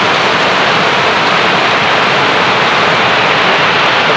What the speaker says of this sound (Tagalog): Lakas pa ng ulan, guys.